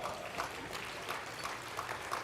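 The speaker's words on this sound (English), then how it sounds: "Round of applause for that." A dinner audience applauds at a keynote event, a soft, steady patter of clapping that stays faint and distant throughout.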